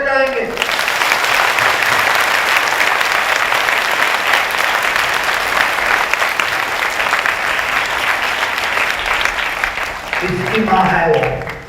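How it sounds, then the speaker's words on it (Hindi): A large audience at a Christian satsang prayer gathering claps loudly and steadily for about ten seconds, a dense continuous roar of hands, with a voice briefly heard at the start and end. "ताली जोर से बजाएंगे।"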